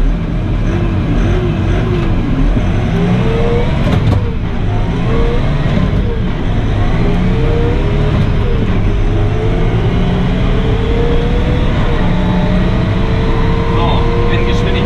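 A McCormick X4.70V tractor pulling away in first gear, a loud, close diesel drone with rising and falling engine pitch throughout, while a person talks over it.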